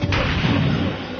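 A sniper rifle shot in a video game: one loud, sharp crack at the start, then a dense rumbling tail that runs for about a second.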